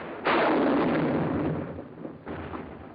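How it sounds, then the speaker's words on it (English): Battlefield artillery from a 1945 wartime recording booms out in a loud, dull-edged blast that rumbles away, then a second, softer boom follows about two seconds later. "Our own artillery was brought to fall within 100 yards of our front-line elements."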